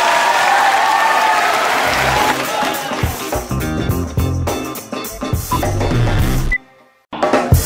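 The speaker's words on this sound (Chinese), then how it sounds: "来，我们掌声欢迎他们。" Loud studio audience applause at a Taiwanese talk show welcoming guests, a dense wash of clapping that thins into scattered claps and briefly drops out before resuming.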